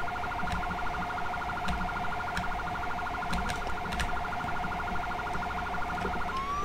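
A wailing police car siren from the Roblox video game, loud and continuous with a fast warbling pulse, with scattered faint clicks behind it and no talking.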